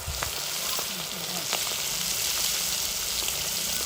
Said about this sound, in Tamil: அதனால் காடையை எண்ணெயில் போட்டுடலாம்.